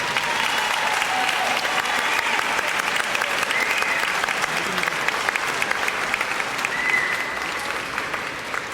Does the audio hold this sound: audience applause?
yes